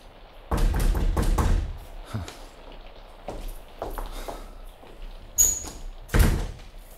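Heavy knocking on a wooden door comes in a loud cluster of thumps near the start, then a few scattered lighter raps and two more sharp knocks later, with quiet between.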